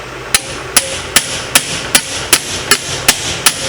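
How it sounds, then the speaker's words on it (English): A hammer strikes a stubborn part on a 2003 Polaris Sportsman 500 ATV, with nine sharp, loud metallic blows in a steady rhythm, close by and with no talking. "Get you a good hammer."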